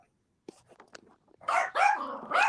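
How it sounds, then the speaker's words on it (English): A dog barks in the background during a call, three loud, clear barks in quick succession after some quieter scuffling and clicks, with no talk. "I can hear the dog."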